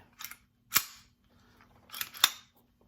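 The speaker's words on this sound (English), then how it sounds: "this mag release works pretty good. Drops it right out" Magazine released from a Hi Point C9 pistol and dropping out, a few sharp metallic clicks and clacks in a quiet room.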